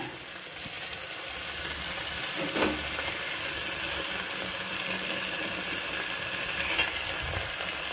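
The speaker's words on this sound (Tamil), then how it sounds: "வதங்கினதும் இந்த பாகக்காவை ஆட் பண்ணிக்கிங்க." Bitter gourd sizzles as it is added to a pan of sautéed ingredients for a curry-leaf gravy, a steady, moderate frying hiss with a few soft clatters from the pan.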